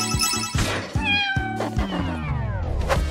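A cat meows loudly and repeatedly, several drawn-out calls close up and alone with no talking.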